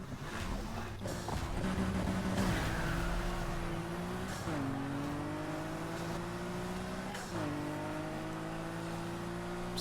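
Racing car engine in Need for Speed Heat holding a steady drone with repeated upshift dips and rising pitch, loud and continuous with no talk over it.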